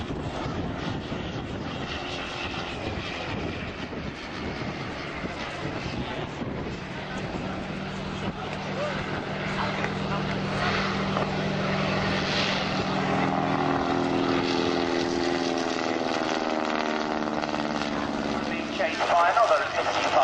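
A vintage warbird propeller aircraft flies at the 2011 Shoreham Airshow, its engine droning steadily and growing louder with a strong harmonic whine, while someone talks over it.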